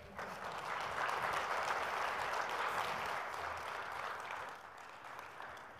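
An audience claps at the close of a Google Cloud security talk, a dense, sustained round of applause from a full room that swells early and then slowly thins out.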